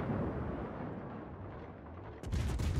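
Guns of an Italian cruiser fire in World of Warships, a dense rumbling roar that fades slightly before a sharp, loud new blast near the end.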